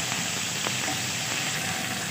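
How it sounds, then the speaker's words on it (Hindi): Chopped onion frying in a pan for mushroom chilli, a steady loud sizzle and hiss close up, continuous throughout with no talking. "तो उसको फ्राई करेंगे।"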